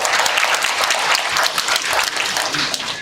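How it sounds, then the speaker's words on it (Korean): Audience applause at a high school debate contest in Daegu, a dense burst of clapping from a hall full of listeners that carries steadily for a few seconds without pause. "박수 한번 보내주십시오"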